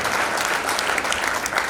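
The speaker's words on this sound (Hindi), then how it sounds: "एक जोरदार तालियां विकास व्यवस्था के लिए" A crowd at a town hall speech claps steadily, a dense wash of applause that holds at an even level throughout.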